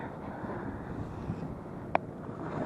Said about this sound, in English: The wind's just blowing this way, so it's blowing my line.